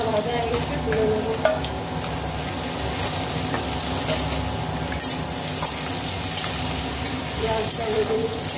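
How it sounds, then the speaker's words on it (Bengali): Chopped onions fry in a pan after tilapia fish, a steady close sizzle with occasional stirring scrapes and small pops throughout. "পেঁয়াজটা ভেজে নিচ্ছে।"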